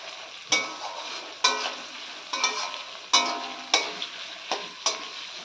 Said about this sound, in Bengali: তো দেখতেই পাচ্ছ এখানে বেরেস্তাটা ভাজা চলছে।